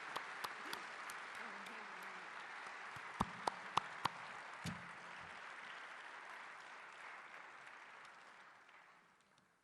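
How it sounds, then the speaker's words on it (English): Another round of applause at a memorial event honoring victims and first responders on the one-year anniversary of a tragic crash near DCA, with steady crowd clapping, a few sharp nearby claps, then fading out toward the end. "Can we have another round of applause for them?"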